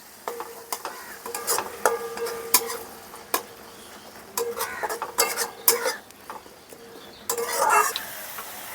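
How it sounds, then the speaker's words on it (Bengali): Ground cumin and coriander paste being stir-fried in a pan for potol aloo kosha, with intermittent clattering scrapes of a spatula against the pan over a soft sizzle, close and uneven in rhythm, with no speech. "মশলাটাকে ভালো করে কষিয়ে নেব।"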